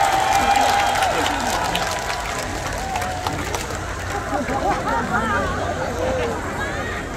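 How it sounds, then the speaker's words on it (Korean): An audience at an outdoor trot music concert festival in Guro, Seoul, claps steadily and loudly throughout, with crowd noise, scattered cheers and voices mixed in. "다시 한번 큰 박수 부탁드립니다."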